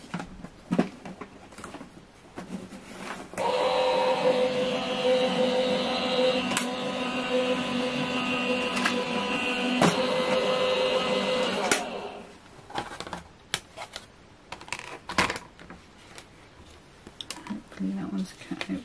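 Die-cutting machine running card through with Stately dies, a steady mechanical whirring and rolling hum lasting about eight seconds, fairly quiet and close, with handling clicks and knocks before and after.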